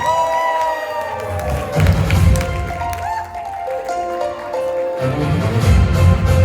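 Crowd cheering and applauding at an Onam inauguration to welcome Maveli, a dense steady roar of voices with music over it, swelling again near the end.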